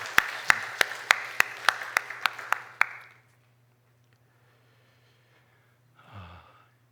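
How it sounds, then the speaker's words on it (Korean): A church congregation at a Korean Wednesday service claps in unison, about ten sharp, evenly paced claps that stop abruptly into near silence, followed by a brief breathy noise close by. "우리 주님께 영광의 박수 올려드리겠습니다."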